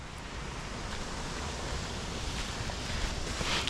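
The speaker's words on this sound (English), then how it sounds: "I'm hearing waterfall." A waterfall on Mount Kilimanjaro near Shira Camp gives a steady, even wash of rushing water, continuous and moderately distant with a faint wind-like hiss, and no talking.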